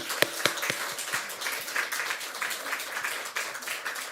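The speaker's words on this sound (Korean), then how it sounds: "박수, 나올 때까지 박수." Congregation clapping during a Saturday dawn service in a Korean church, starting with a few sharp, distinct claps and then settling into steady, moderate applause.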